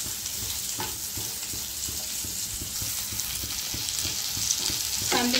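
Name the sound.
onions frying until pinkish for butter chicken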